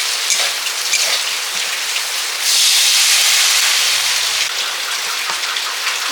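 Water is poured onto ground spices (cumin, coriander, fennel, nigella and radhuni) frying in a pan, giving a loud, steady hissing sizzle that swells into a brighter rush partway through, then settles back into crackling.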